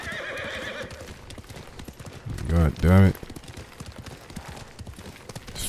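A horse in Ghost of Tsushima lets out a loud, close neigh in two strong bursts midway, with quick hoof clip-clops and game noise around it and someone talking over parts of it.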